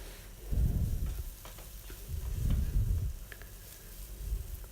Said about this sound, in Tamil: சேர்த்துட்டு ஒரு 2 நிமிஷம் நல்லா வதக்கிக்குங்க